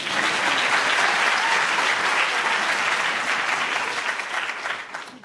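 Loud, sustained audience applause at a freedom prize ceremony, a thick continuous roar of clapping that holds steady and then gradually thins toward the end.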